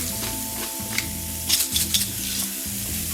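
Mushrooms with kosher salt and pepper sizzle in a pan on medium-high heat, a steady frying hiss under a low background hum, with a few short stirring clinks in the middle.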